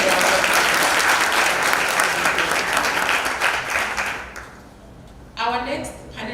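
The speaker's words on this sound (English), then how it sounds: "You may give him a round of applause." Symposium audience gives a full round of applause, loud and dense, fading out after about four seconds before a brief burst of voices returns near the end.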